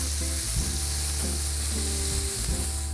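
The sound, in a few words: shrimp searing in a pan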